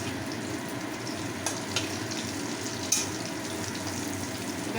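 Lentil cakes (dhoka) shallow-frying in oil over lowered heat, giving a steady, close sizzle with a few small pops and crackles and no voices.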